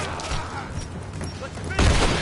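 Gunfire in the video game Rise of the Tomb Raider, a dense clatter of shots under constant background sound with a heavy burst near the end.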